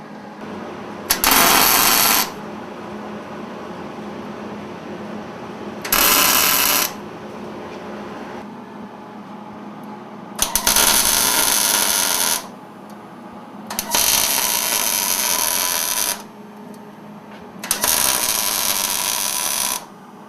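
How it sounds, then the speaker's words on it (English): MIG welding with a Millermatic 140 Autoset welder: five bursts of harsh, crackling, buzzing arc noise, each lasting one to two seconds, separated by quieter pauses with a low background hum. "Okay, so that was an excellent weld."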